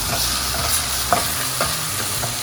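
Vegetables sautéing in a hot pan, a steady close sizzle and frying hiss with a few soft stirring scrapes, continuous and fairly loud with no voices.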